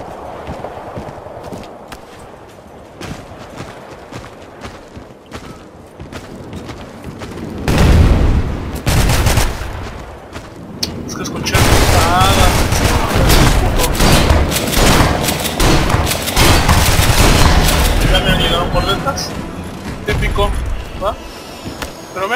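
Gunfire from the video game Ballistic crackles in dense bursts and heavy booms, loudest from about eight seconds on, mixed with game effects and someone talking throughout.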